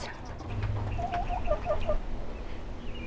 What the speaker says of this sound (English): Backyard chickens,